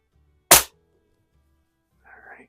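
A Gamo 126 single-stroke pneumatic target air rifle fires a single sharp crack in a garage, loud and close, followed by quiet and a faint distant clatter moments later.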